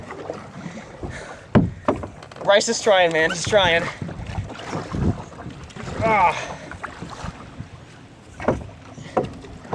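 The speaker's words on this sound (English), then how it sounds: "You gotta get the oar down in the water. You gotta push the water with the oar." Kayak paddling on the water at Hilton Head Island, oar strokes splashing intermittently near the microphone amid wind noise, under the shouting and talk of people nearby.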